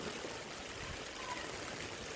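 Floodwater flows steadily through a submerged street junction in Barishal during Cyclone Remal, a constant, even rush streaming past at close range without a break.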